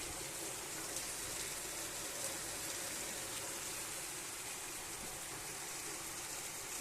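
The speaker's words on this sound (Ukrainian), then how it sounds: "Ох і лиє." Heavy rain pours steadily outdoors near fields and a river in harvest season, a dense, even hiss that holds at a constant level throughout with no voices.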